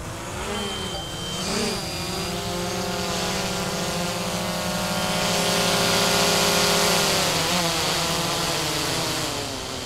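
A DJI drone hovers close by, its propellers giving off a loud, continuous high-pitched buzzing whine that bends slightly in pitch as it moves and swells a little louder partway through.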